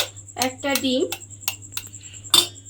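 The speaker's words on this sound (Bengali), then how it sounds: "একটা ডিম ফাটিয়ে আমি এর মধ্যে দিয়ে দিলাম।" An egg is cracked against a bowl of soybean chunks, giving a few sharp taps and clicks up close. A voice speaks briefly at the start, and kitchen clatter and quiet room hum sit in the background.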